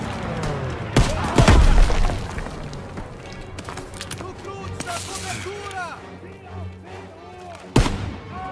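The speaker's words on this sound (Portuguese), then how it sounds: "Arremessando granada!" A grenade blast in the Call of Duty: WWII São Miguel map, with a sharp loud boom near the start, then sustained gunfire and battle noise, and another abrupt blast toward the end, all under shouted in-game voice callouts.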